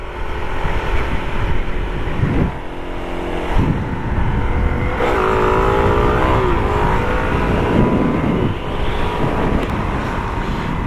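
A Suzuki DR-Z motorcycle engine drones and revs steadily while being ridden, heard loud and close under heavy wind noise, with the pitch rising and falling as the throttle changes.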